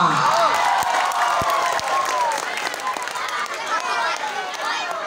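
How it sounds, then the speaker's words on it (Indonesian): An audience claps for the men at a comedic Maulid Nabi sermon, a sustained crowd applause with scattered sharp claps under a speaking voice. "Tepuk tangan buat bapak-bapak."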